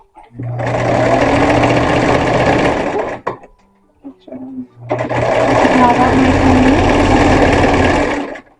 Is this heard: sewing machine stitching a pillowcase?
yes